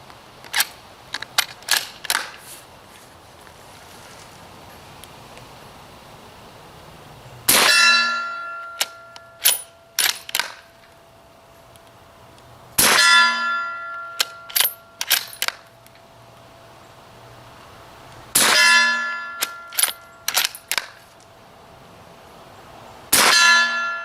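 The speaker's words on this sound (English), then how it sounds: "hear how loud it resonates on that steel" Repeated sharp metallic clangs of suppressed subsonic 190-grain rifle rounds hitting steel targets at a range ring out with a lingering bell-like tone, in bursts of several hits with quieter gaps and faint shot reports between them.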